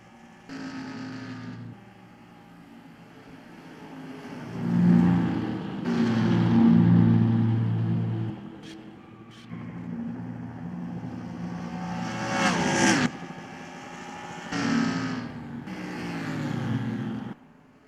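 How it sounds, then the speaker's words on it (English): Simulated stock car racing in NASCAR Racing 2003 during a Drive for Autism 400 race: engines drone and swell continuously, with several louder passes and revving surges as cars sweep by, no voices over the top. "Aric Jones is closing the gap between him and the 22 car."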